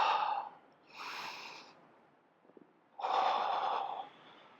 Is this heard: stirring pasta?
no